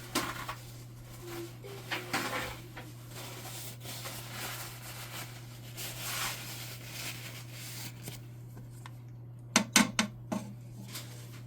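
Pots clanking while curry goat is moved from one pot to another, scraping and rubbing over a constant hum, ending with a few sharp metallic knocks close by.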